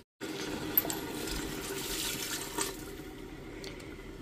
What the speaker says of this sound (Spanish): Voy a echarle otro vasito de agua.